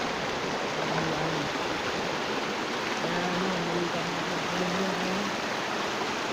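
A river running high after rain produces a broad, steady rushing roar of water close by, with voices talking faintly underneath.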